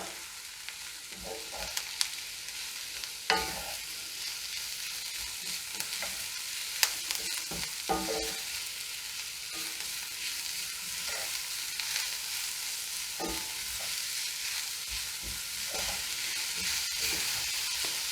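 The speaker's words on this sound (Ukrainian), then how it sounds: "обсмажуємо" Carrot added to golden onions sizzles in a pan as a steady crackle, punctuated by sharp scrapes and knocks of a spatula stirring at irregular intervals.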